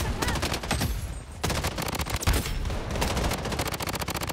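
An MCX assault rifle in the shooter game Blood Strike fires in rapid bursts, loud sharp cracks repeating throughout with a brief pause near the one-second mark.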